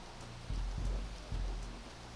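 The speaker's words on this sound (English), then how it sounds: "It's raining in here." Steady rain hisses softly indoors with a low rumbling undertone and a couple of heavier thuds, with no voices, in the video game Soul Reaver 2.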